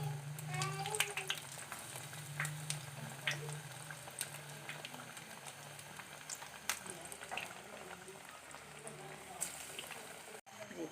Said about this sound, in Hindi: जी, बैंगन के पकोड़े फ्राई हो रहे हैं।